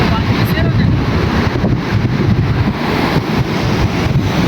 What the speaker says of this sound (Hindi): आवाज़ आ रही होगी आपको पानी की